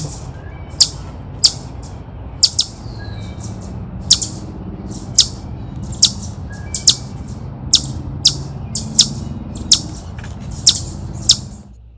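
A bird gives sharp, piercing alarm calls again and again at a steady pace, loud and close, over a low rumbling background.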